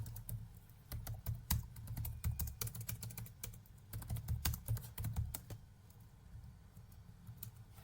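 Steady, close typing on a computer keyboard while entering a name into a Microsoft Word document, a dense run of light key clicks with irregular rhythm, quieter toward the end, over a low room hum.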